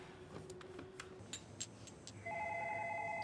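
A telephone rings in a home during a shared meal. A steady electronic ring starts about two-thirds of the way in and continues to the end, fairly clear over quiet room sounds and small clinks.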